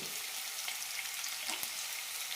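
Sliced onions and curry leaves sautéing in oil for an onion kurma, a bright, even crackling sizzle held throughout with a soft stir or two, near and unaccompanied by speech.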